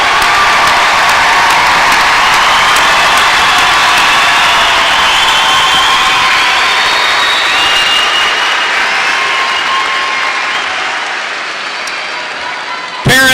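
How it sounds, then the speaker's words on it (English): Large graduation audience at a 2017 high school commencement applauding the graduating class, a dense sustained wash of clapping with some cheering that holds steady and tapers slightly near the end. "Let's applaud this class of 2017."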